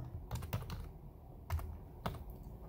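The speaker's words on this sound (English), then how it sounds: "you have to type get service," Keys tapped on a computer keyboard while entering a PowerShell command to check SQL Server service status: a few quick bursts of clacking keystrokes with short pauses between them, close and fairly quiet.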